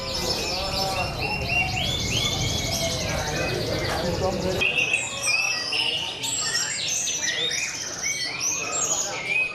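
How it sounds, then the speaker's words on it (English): Many caged birds chirp, trill and whistle at an Indonesian bird song competition audition, a dense overlapping chorus with voices murmuring in the background crowd. "they were holding auditions for the bird sound competition"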